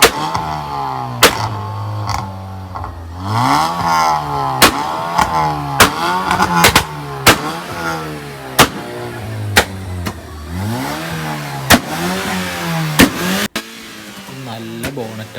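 A modified, lowered Honda Civic at a college auto show revs again and again, its engine climbing and falling in repeated rising sweeps, with sharp pops and crackles between pulls, loud and close.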